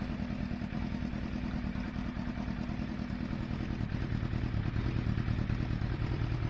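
A motorcycle engine first started after three months sitting idles steadily with a continuous low, slightly clattering rumble, close and fairly loud, with no talk.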